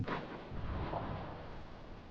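Animated oil explosion likened to a nuclear blast: a loud, sustained boom with rumbling roar that fills the whole short stretch without pause.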